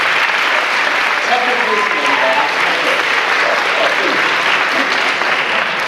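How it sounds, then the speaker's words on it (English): Audience round of applause at a youth theatre awards show: loud, sustained clapping from a crowd throughout, with a voice speaking faintly beneath it. "let's give them a round of applause."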